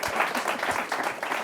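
Audience applause, a steady patter of many hands clapping at moderate distance, fairly quiet and brief.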